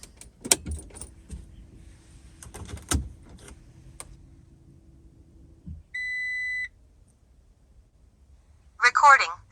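Keys jangle and rattle as a car ignition key is turned, followed by a short electronic beep from the dashboard and a fainter clicking, all close by in a quiet cabin, with a brief burst of voice at the end.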